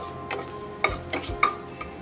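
Fennel seeds spluttering in melted butter in a pan, a soft, quiet sizzle broken by several sharp little pops and crackles at irregular intervals, close by and alone.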